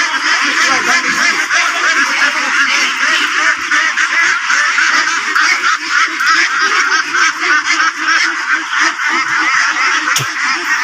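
Ducks quack and honk continuously in a crowded poultry market as they are grabbed and caught, a dense steady chorus of many birds close by with a loud busy murmur throughout.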